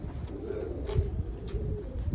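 A pigeon coos softly and repeatedly nearby, its low rolling calls set against a steady background hum.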